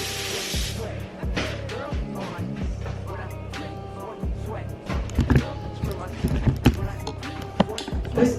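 A brief hiss of hairspray at the very start, then a person talks over clattering and handling noises.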